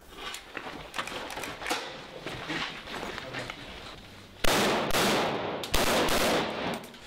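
Gunfire from snipers during a street battle, with bursts of sharp shots and crackling reports, some distant, then two loud, close blasts near the end.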